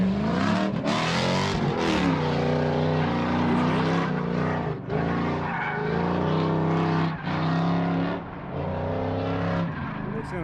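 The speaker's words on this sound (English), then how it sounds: "Harville coming in here with the old LS 400 power. Listen to that V8 kick in there." Lexus LS 400 drift car with V8 power at a drift event, engine roaring and revving loud with tire squeal and skids as it passes, under a commentator's talk.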